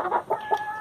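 Backyard-raised chickens about 120 days old cluck close by, three short, loud clucks in quick succession followed by a trailing call.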